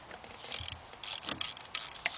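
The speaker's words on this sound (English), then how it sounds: "got my 1/4 inch ratchet" A 1/4 inch ratchet works a bolt on a Ford Fiesta engine, giving quiet, close clicking pawl ticks in short uneven runs over a faint background.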